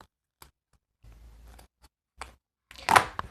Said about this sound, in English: Find a sharper pair of scissors.